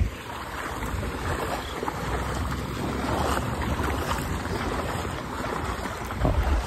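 A motor boat with a slightly faulty engine runs across flood water in Morigaon, giving a steady droning rumble mixed with wind and water noise, continuous and fairly close.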